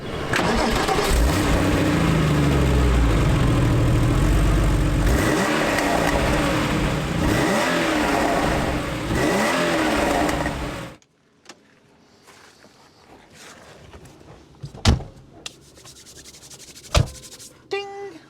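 A Porsche 993 C4S engine runs loud and steady at close range with rising and falling revs, then cuts off abruptly, leaving quiet with a couple of sharp knocks.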